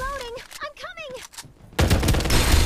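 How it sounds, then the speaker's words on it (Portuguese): Rapid automatic gunfire bursts out loudly in the Farlight 84 video game after someone talks for a moment. "Vamos atirar nele também."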